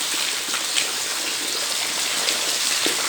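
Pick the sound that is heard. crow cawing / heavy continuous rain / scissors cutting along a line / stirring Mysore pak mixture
heavy continuous rain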